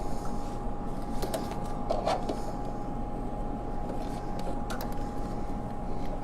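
A sewing machine runs a quarter-inch seam on a saddle pouch, stitching forward and then backstitching, with a steady close mechanical whir and faint creaks throughout.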